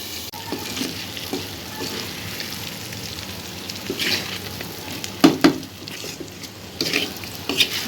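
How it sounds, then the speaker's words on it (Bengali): Pointed gourd (potol) fries in a pan with a continuous close sizzle, broken by a few louder crackles and utensil taps near the end. "পটল ভাজা হয়ে গেল হয়ে গেল"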